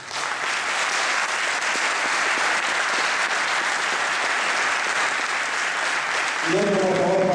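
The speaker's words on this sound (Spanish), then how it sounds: "yo quiero daros un aplauso a todos vosotros por vuestra solidaridad." Sustained, dense applause from an auditorium audience at a solidarity gala for miners, steady throughout, with a voice starting to speak over it at the end.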